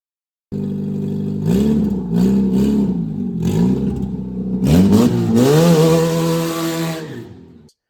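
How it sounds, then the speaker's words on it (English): Race car engine breathing through an 8-inch diesel truck exhaust pipe welded on, revving loud and close in several sharp blips, then a longer, higher-pitched rev before cutting off. "that's an 8-inch exhaust pipe I ripped off of a diesel truck, and we went ahead and welded it on there. So this thing sounds pretty mean."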